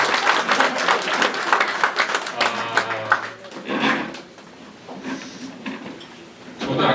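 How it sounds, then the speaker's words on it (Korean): Audience applause at a political talk concert, lively clapping from a crowd that swells at first, eases off midway, then picks up again in scattered bursts. "박수 한번."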